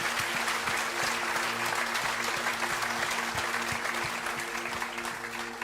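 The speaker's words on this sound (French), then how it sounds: "Est-ce qu'on peut applaudir ceux qui étaient là il y a 40 ans bien fort" A church congregation applauding loudly, dense continuous clapping from a large crowd that holds steady and then starts to fade slightly toward the end.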